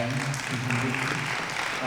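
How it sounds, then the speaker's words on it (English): Theatre audience applauding after a show, a dense, steady wash of clapping that runs throughout, with voices heard faintly beneath it. "So a round of applause to everybody being involved in surviving."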